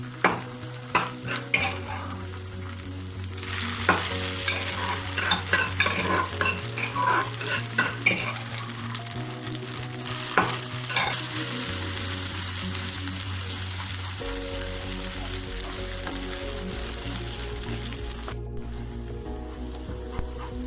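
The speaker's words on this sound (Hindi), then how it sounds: "अब इसमें डाल देते हैं साग" Mustard greens frying and being stirred with golden-browned onions in a pan, a steady close sizzle broken by repeated scraping stir strokes, with no voices.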